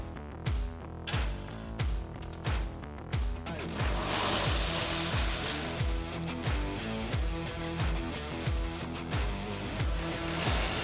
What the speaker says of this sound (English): Begin by removing and retaining the fasteners that hold the nameplate and deck plate to the chassis.